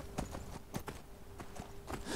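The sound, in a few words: horse hooves clip-clopping in a video game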